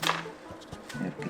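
A kitchen knife cuts fresh perilla leaves for kimchi on a board, giving a few soft, quick chopping strokes spaced across a short moment, fairly quiet and close.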